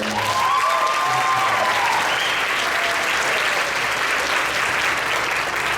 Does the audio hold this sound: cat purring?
no